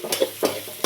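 Onion roasting in a pan for tomato gojju is stirred in three quick scraping strokes, each with a short soft sizzle, close and clear with no talking.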